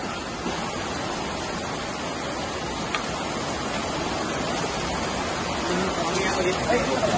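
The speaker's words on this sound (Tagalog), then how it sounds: "It's raining in Hinaguan Farm." Dense, steady hiss of heavy rain falling on surfaces, constant throughout, with faint voices murmuring in the background.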